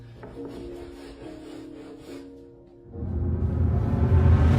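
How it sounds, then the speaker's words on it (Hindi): Wood being cut somewhere off in the distance, a steady rubbing, rasping scrape that runs for a couple of seconds before louder low rumbling noise takes over. "कुछ लकड़ी काटने की आवाज आ रही है From over there."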